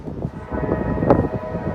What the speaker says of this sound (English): You hear that whistle blowing?